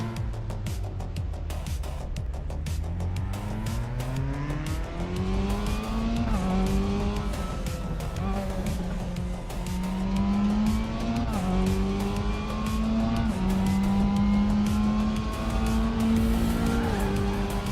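A race car in a racing video game, driven with a Formula-style wheel, drones loudly throughout as the engine note climbs through repeated gear shifts, with squealing tires under the steady roar.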